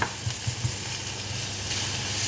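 Chopped onion sizzles in olive oil, a close, even frying hiss with a few soft low knocks near the start and no voices.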